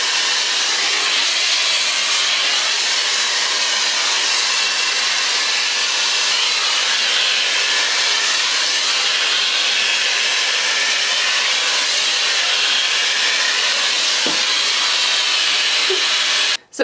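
A Shark FlexStyle hair dryer aimed at the roots of fine, thin hair blows a steady, loud, broadband whoosh for the full stretch. At the very end it cuts out abruptly with a brief click.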